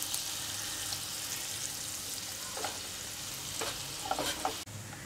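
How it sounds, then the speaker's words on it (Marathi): Chopped onion sautéing in a pan for fodniche dahi, a tempered curd dish, giving a steady close sizzle with a few soft stirring scrapes and no talking. "कांदा घातल्यानंतर आपण त्याला परतून घ्यायचं आहे."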